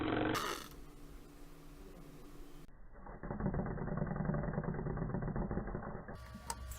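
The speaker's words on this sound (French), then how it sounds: "On observe effectivement que le moteur tourne dans le sens inverse" A small electric motor in a school circuit runs in reverse with a steady, close, buzzing whir that stays even and fairly quiet.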